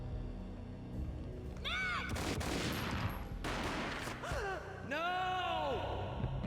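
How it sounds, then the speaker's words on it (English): Gunfire in the Max Payne video game finale: several sharp, heavy gunshot bursts crack in quick succession, mixed with gasping, strained voices between the shots. "A gunshot boomed and she fell down in slow motion"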